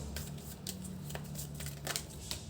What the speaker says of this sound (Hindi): So many cards. Let's shuffle up.